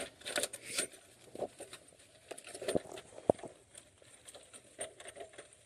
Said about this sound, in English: Once it stops raining, I'll get this all mounted back on, but right now it just keeps raining, so keeping it covered.